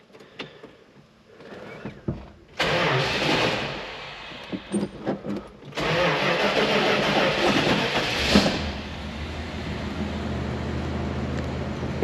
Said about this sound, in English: That's a cold start for you.